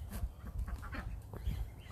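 Ducks quack in a busy, overlapping chorus on a farm, with steady low rumble and background noise beneath the calls.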